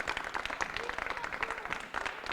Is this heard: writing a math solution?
no